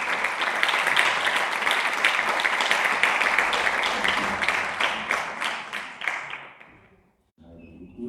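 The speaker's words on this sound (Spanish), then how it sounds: "Pido un fuerte aplauso para él y para los demás ponentes." Applause from the audience at a heritage conference session in San Bartolomé de Tirajana, with loud, dense clapping that thins into a few scattered claps and dies out near seven seconds, followed by a brief pause and a faint sound.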